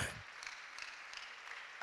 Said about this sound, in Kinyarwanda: Imana tuyongera amashyi mu izina rya Yesu